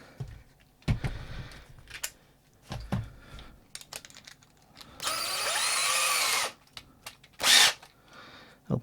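A power drill spins a bicycle light dynamo in short bursts of whirring, with one longer loud run near the middle and a brief burst after, separated by quieter handling clicks and rustles.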